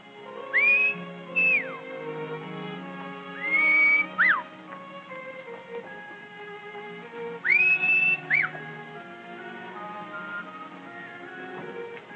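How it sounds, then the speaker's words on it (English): Someone whistles three times in a rising-then-falling call, each about a second long, over quiet background music. "I could have sworn I recognized that whistle."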